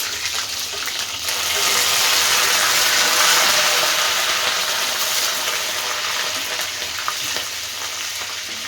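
Mustard seeds and cumin crackle and sizzle in hot oil as a tempering for a drumstick and tomato curry, a steady, dense frying hiss that swells after a couple of seconds and holds loud and close without talk.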